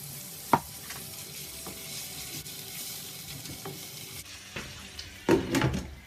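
Chopped tomatoes with a pinch of salt frying in a pan, a steady sizzle with occasional stirring scrapes and a louder clatter near the end.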